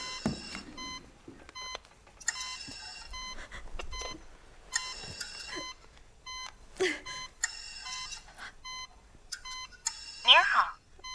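A telephone ringback tone repeats in regular bursts with short gaps between them, clear and electronic, during an unanswered call in a drama scene, ending in a brief higher chirp.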